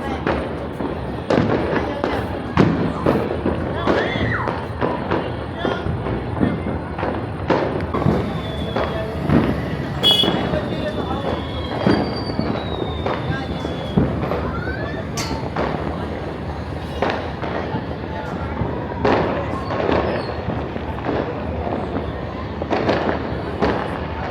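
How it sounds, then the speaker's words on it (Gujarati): Colourful fireworks burst at an Uttarayan festival celebration, a long run of rapid crackling pops and bangs at varying distances, with a few whistles and people talking throughout. "જો મસ્ત મજાના કલરફુલ ફટાકડા ફૂટવા માંડ્યા છે."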